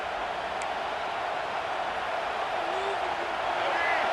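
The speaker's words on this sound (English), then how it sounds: "Decibels rising as the crowd gets behind this defense on third down." A stadium crowd roars on third down in the College Football 26 video game, a dense, sustained wash of cheering that swells slightly toward the end, with brief whistle-like tones over it.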